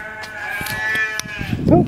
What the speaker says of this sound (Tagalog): Ingay ng tupa.